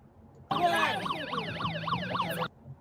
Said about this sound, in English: blaring sirens right here is assault